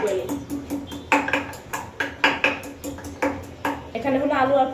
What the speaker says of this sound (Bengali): তার জন্য একবার একটু বেশি করে আদা থেতো করে নিই